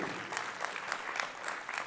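Steady audience applause at a film event in India, a dense wash of many hands clapping at moderate level throughout, with no voices on top.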